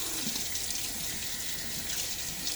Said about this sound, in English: Rinse off the container.